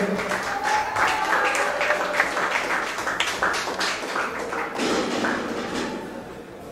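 Audience applause at a squash tournament award ceremony in Mexico, sustained clapping from a crowd filling the whole stretch at steady loudness, with faint voices mixed in.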